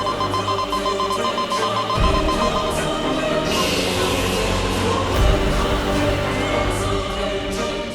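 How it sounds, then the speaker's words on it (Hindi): A continuous electronic alarm rings steadily and loudly throughout, with a dense buzzing tone and a thumping shift partway through. "ये तो वीर लोग का सिक्योरिटी अलार्म है।"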